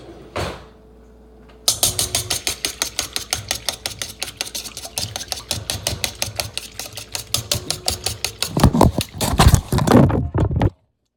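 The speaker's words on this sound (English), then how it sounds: "Now we're going to whisk this together." Brisk whisking of ingredients in a bowl, with quick metallic clicks of the whisk against the sides in a steady rhythm, loud and close, speeding into denser strokes just before stopping abruptly.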